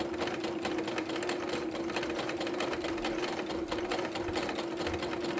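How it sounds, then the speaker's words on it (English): A sewing machine runs continuously, sewing a straight stitch around a tote bag with an even, fast mechanical hum and clatter, close and steady throughout without voices. "And it is just a straight stitch. And you're just going to go all the way around."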